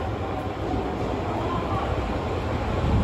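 An Osaka Metro Sakaisuji Line subway train arrives at the platform at Nagahoribashi Station, rumbling steadily along the rails with a low, continuous roar and faint hum, close by and filling the space.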